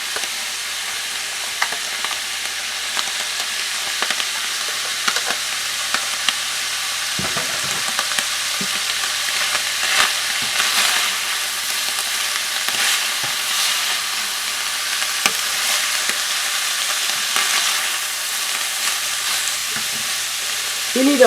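Sliced onions and green pepper sizzle and fry in a large frying pan, a steady close crackle with occasional stirring scrapes, no voices.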